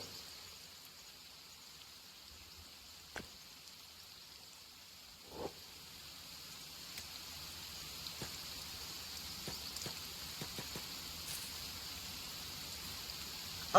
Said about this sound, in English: Oh, it's raining right now.